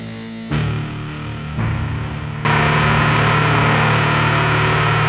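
A droning synth note grows harsher in steps as heavy distortion kicks in, ending in a loud, gritty, buzzing roar.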